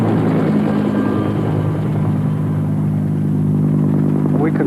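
Steady, loud rotor and engine drone from a Los Angeles Fire Department water-bombing helicopter, continuous and close throughout with no pauses and no voices.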